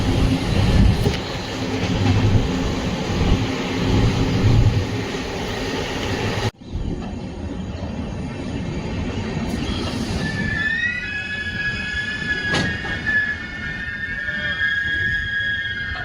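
A passenger train on the Chikkamagaluru–Kadur–Birur route in Karnataka rumbles loudly and steadily, then, after a brief dip, runs on more quietly with a sustained high wheel squeal and a sharp metallic ring over the continuous rolling noise.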